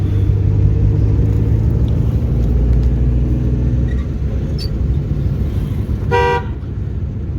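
A car driving in third gear, a steady loud low engine and road rumble throughout, with a brief horn toot near the end.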